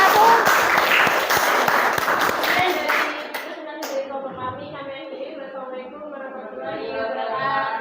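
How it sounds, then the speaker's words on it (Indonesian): Applause from a classroom audience for a student group, dense clapping loud at first then thinning out, with voices and chatter carrying on underneath. "Tepuk tangan untuk kelompok"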